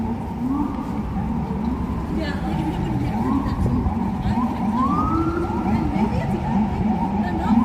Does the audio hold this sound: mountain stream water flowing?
no